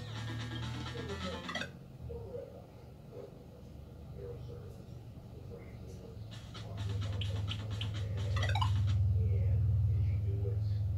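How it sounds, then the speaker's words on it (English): A dog pants at a door indoors: steady, close breathing that runs through the whole stretch, with a quieter gap in the middle before it swells louder again. "Got my dog at the door."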